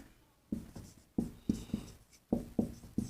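Chalk tapping and scraping on a board during a Hindi maths lesson, a handful of distinct strokes in uneven rhythm, close and without speech.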